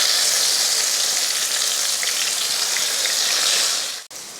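Ground coriander paste hits hot oil in a pan for coriander rice, giving a loud, steady sizzle like heavy rain that holds for about four seconds before cutting off.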